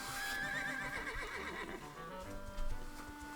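A horse in The Legend of Zelda: Echoes of Wisdom gives a loud whinny and neigh, with soft hoof clip-clops and game sounds underneath, ending in a short louder burst.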